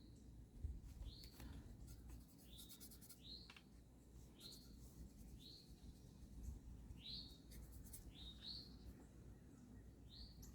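Birds chirp outdoors during a plein air painting session, a series of short rising tweets repeating every second or so, faint and distant over a steady wash of background noise, with occasional soft rubbing nearby.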